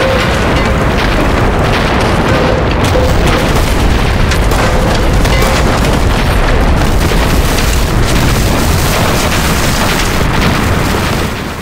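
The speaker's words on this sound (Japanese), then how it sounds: "大砲を使い、八路陣地を破壊しろ。" Artillery cannon fire and explosions in a war film battle scene, with Japanese troops shelling Eighth Route Army village positions; a dense, loud barrage of booming blasts rolls continuously without a break, with no voices.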